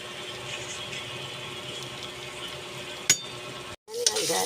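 Ground beef for spaghetti sauce sautés in a pan with a soft, continuous sizzle, a single sharp clink of a utensil, then a brief cut before the frying noise returns louder.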